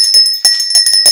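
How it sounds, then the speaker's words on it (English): Small gift bell rung close and loud, a bright metallic tinkle with several quick strikes and a sustained ringing tone throughout. "That is the bell"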